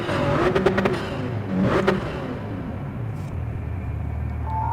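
Roaring Toyota GR Supra Racing Concept engines in a video game rev and whine past on the full Nürburgring track, the pitch rising and falling, then settling into a steady rumbling drone.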